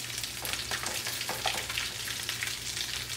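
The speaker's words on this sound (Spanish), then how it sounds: "Le voy a aventar la cebolla." Onion hits a hot pan with pork ribs and sizzles loudly and steadily, a dense crackling fry close by with no voices.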